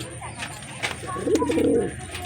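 Soft, low pigeon cooing in a rolling burst near the end, with a few faint clicks and light background noise.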